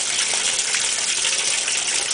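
Water gushes and churns steadily inside a running GE Hotpoint top-loading washing machine with the lid up, a loud, close, continuous rushing wash noise with no voices.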